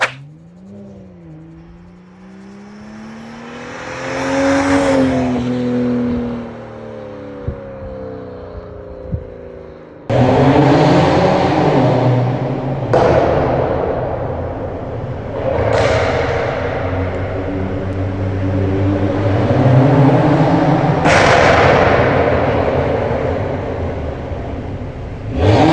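A modified BMW 335i E90 with an N5X turbocharged inline-six drives and accelerates repeatedly, engine note climbing through gears with sharp shift breaks, a steady whooshing rumble of road and intake, loud and close from inside the car.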